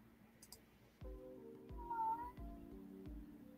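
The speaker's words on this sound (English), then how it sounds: "Oh, my kitty's got something to say." Pet cat meowing indoors, a few faint drawn-out calls over a low repeated thumping background, no one talking.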